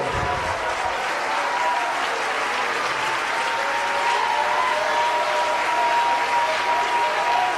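A church congregation applauds continuously, a thick even wash of many hands clapping that holds steady and swells slightly in the second half, with faint voices mixed in.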